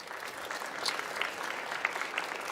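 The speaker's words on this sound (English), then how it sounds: "Big applause." An audience at the Formnext industry conference stage claps in steady, moderately dense applause that carries on for a couple of seconds, with a few sharper individual claps standing out.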